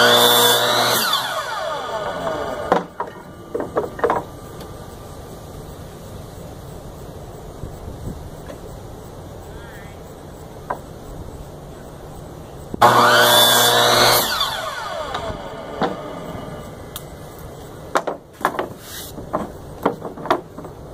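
A power saw whines loudly through wood in two separate cuts, with quieter clatter and handling noises in the pause between them.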